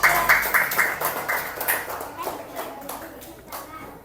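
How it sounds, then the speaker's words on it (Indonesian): Students in a classroom clap for a group during a computing lesson, a close run of sharp, uneven claps that thins out while voices talk over it. "Tepuk tangan untuk kelompok Azka."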